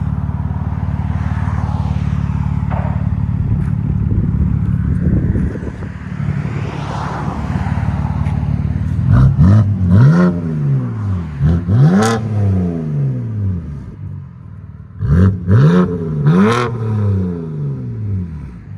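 A 2007 BMW 328i with a 3.0-liter inline-six and blast pipes revs hard and close, with a steady idle drone giving way to several sharp rising and falling revs, each ending in crackly pops.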